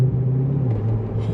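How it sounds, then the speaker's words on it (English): C6 Corvette Z06 V8 engine blipping in a rev match, a steady deep rumbling drone that swells and dips slightly, loud and close with no talk over it. "Oh, you like that rev match?"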